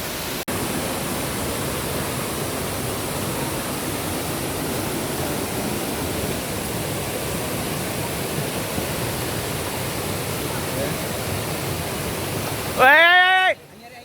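A steady, loud rush of the strong stream current near Khoiyachra Waterfall, Chittagong, fills the scene without a break, close by, until it cuts off near the end.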